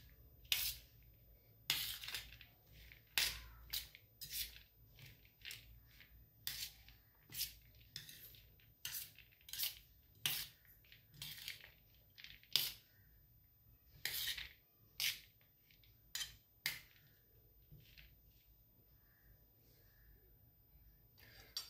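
A spoon scrapes and clinks against a bowl while moong sprout chaat is mixed, giving repeated short, bright taps and scrapes at an uneven rhythm, close but quiet, with no talking.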